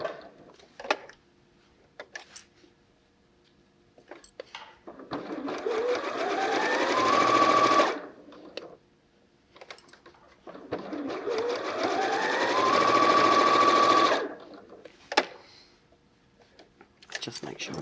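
A sewing machine stitches fabric for washable wipes in two long bursts of steady whirring, each a few seconds, with quiet gaps between where someone talks and handles the cloth.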